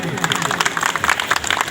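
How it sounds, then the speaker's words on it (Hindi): Brief burst of applause from a crowd at a public meeting, scattered hand claps pattering for under two seconds. "बहनों के लिए ताली बजा दीजिए"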